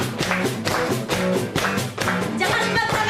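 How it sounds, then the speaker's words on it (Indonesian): Church congregation at Gereja Rehoboth clapping hands in a steady beat along to a children's song, each clap crisp and evenly spaced over music, with singing voices underneath. "Tepuk tangannya ya."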